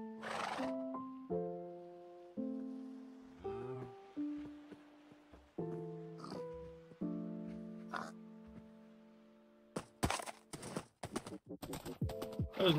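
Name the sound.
horse neighing and hooves in Minecraft (video game)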